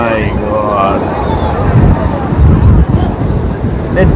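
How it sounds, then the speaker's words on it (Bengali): Strong sea waves roar continuously at Puri beach during days of heavy rain, loud and close, with heavy wind buffeting the microphone and crowd voices in the background. "ঢেউগুলো চরম চরম।"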